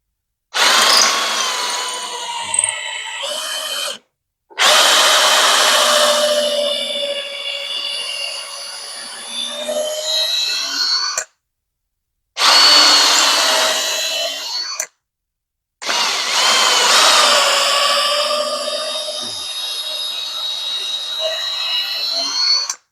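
A power drill bores holes into a wooden mirror frame joint built from spare parts, in four loud sustained bursts with high whining tones, separated by short silences.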